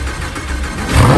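A Lamborghini engine, restarted after a crash, catches and climbs into a loud rev, with a dense broadband engine roar swelling sharply toward the end of the brief burst.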